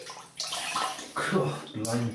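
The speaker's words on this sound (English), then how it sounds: "So I'm going to rinse my face in cold water." Cold water runs from a tap as a face is rinsed, with splashing bursts close by that come and go, and a man exclaims briefly over the sound.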